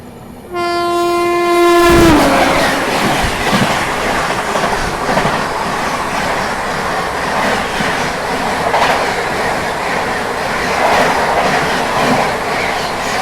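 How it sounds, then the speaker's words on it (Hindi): Near Jalgaon, a moving train sounds a loud horn blast, then a freight train roars past alongside it in a heavy, continuous rumble of wheels and clattering wagons. "ये मालगाड़ी को ओवरटेक भी कर रहे हैं हम लोग।"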